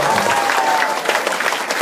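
Steady applause from an audience fills the whole stretch, dense clapping with a faint voice or tone running underneath.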